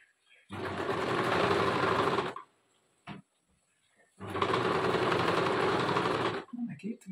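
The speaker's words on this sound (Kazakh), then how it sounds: "Қазір енді мына арқасын тігіп алам." A sewing machine stitches a garment seam in two loud, close bursts of about two seconds each, with a short knock in the pause between them and brief speech afterwards.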